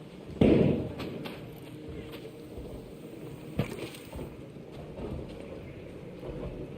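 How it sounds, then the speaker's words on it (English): A single close gunshot in a video game lands as one sharp, heavy boom early on, then trails off under a low background and a few faint thumps. "I heard a gunshot that sounded pretty close."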